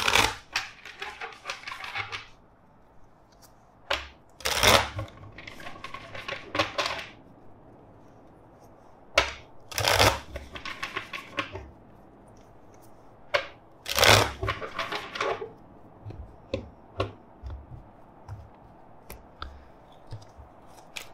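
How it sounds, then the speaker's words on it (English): Several bursts of riffling tarot card shuffles, crisp and close, separated by short pauses and softer handling of the cards. "first let's shuffle the deck"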